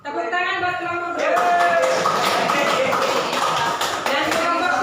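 A classroom of students claps for a group after a quiz, a voice speaking first, then a burst of dense, close clapping and tapping that continues to the end, with chatter mixed in.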